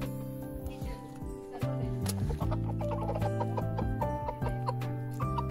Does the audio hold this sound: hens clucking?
yes